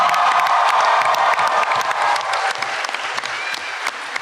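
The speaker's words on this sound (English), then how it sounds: "Everybody give a round of applause" A convention panel audience applauds loudly, with dense sustained clapping, some cheering and whoops mixed in, gradually thinning toward the end.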